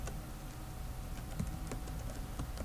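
Quiet, irregular taps on a computer keyboard as someone types in short runs, with a steady hiss underneath and no voices.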